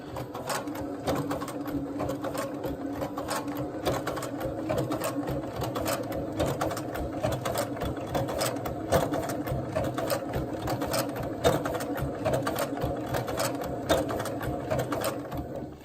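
A SEWPRO 204-2PB-DSE sewing machine runs steadily at slow speed, its needle mechanism producing a continuous, even rhythmic clatter of rapid stitches, close up and without a break.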